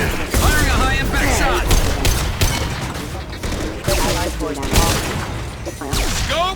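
A loud high-impact sniper shot in Mass Effect 2 amid dense overlapping combat noise, with a character's voice calling out over the continuous gunfire and effects.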